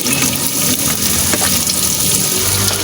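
Garlic sautéing in a cooking pan, a steady broadband sizzle and crackle of frying that runs unbroken, loud and close, with no talking over it.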